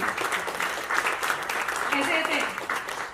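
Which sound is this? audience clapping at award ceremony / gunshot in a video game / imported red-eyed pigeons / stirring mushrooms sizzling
audience clapping at award ceremony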